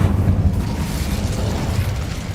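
Incendio fire spell cast in Hogwarts Legacy, a loud close whooshing burst of flame that rumbles low and gradually fades over a couple of seconds, alone without speech.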